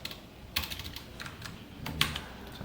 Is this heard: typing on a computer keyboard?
yes